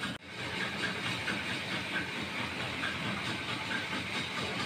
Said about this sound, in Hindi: ये भून रहे हैं